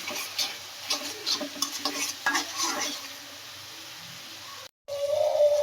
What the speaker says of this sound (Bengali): এখন সামান্য পানি দেব। হলুদ গুঁড়া, এই যে মরিচ গুঁড়ো, এগুলো দিয়ে কষতে হবে ভালোভাবে।